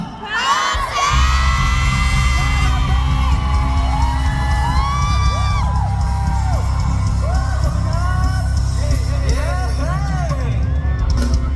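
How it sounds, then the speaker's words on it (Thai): Crowd of fans at the Gotchapop2 pop event shouting the Thai group PERSES' name, a loud burst of massed yells and high cheers that holds at full volume as excited voices whoop and scream. "ผมขอทุกคนตะโกนคำว่าเพรสเซสดังๆหน่อยได้ไหมครับ"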